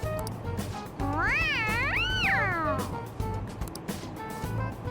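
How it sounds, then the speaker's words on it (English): A stuffed toy cat in the video game Persona 5 gives two bright, sweeping electronic meows in a row, rising and falling in pitch over a steady background hum. "It meows when you press on its head."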